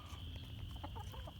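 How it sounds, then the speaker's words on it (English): Chickens and a rooster on a farm cluck in short, repeated bursts over a steady low background hum, with no talk. "we have beautiful chickens and a beautiful rooster here"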